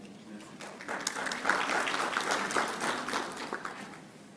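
Moderate audience applause at a financial sector conference in Morocco, a full round of clapping that swells mid-way then begins to thin, with a faint voice underneath.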